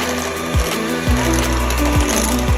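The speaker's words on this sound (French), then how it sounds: "je viens monter ma mayonnaise avec de l'huile de colza à l'aide d'un batteur électrique" An electric hand mixer whips homemade mayonnaise made with rapeseed oil, its motor whirring steadily close by while the beaters knock against the bowl in repeated bumps and pitch dips.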